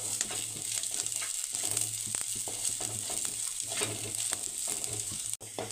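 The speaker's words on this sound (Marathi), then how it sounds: "तर इथे आता हा कांदा आपल्याला लालसर रंगावरती भाजून घ्यायचा आहे।" Sliced onion and ten or twelve garlic cloves fry in a pan for a traditional Maharashtrian maswadi, a soft continuous sizzle with stirring scrapes and occasional sharp ticks of a spatula, quiet and unaccompanied by speech.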